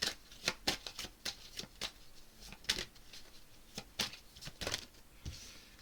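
Tarot cards are shuffled and dealt in a quick series of crisp, close riffling snaps and slaps, quiet overall with no talking.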